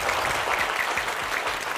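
Studio audience applauding a teacher, a dense, steady burst of clapping from many hands, loud and close with no voices over it.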